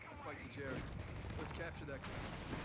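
A dense, continuous rattle of machine gun fire and battle noise from the World War II strategy game Company of Heroes 3, fairly steady throughout, with voices talking over it.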